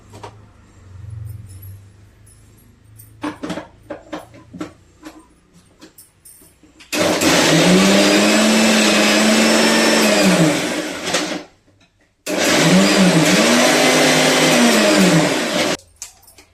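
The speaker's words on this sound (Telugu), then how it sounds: "మిక్సీ పట్టుకోవాలి" Mixer grinder grinding chilies and salt for brinjal curry, two loud sustained whirring bursts of several seconds each with a short gap, preceded by quieter clinks and handling sounds.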